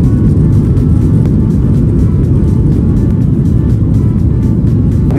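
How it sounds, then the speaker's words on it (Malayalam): Cabin of an S7 Airlines Boeing 737 in flight from Perm to Moscow, filled with a loud, steady broadband engine and air roar that stays constant and unbroken, with no talking. "ബോയിങ് 737 വിമാനമാണ്, ചെറിയ വിമാനമാണ്."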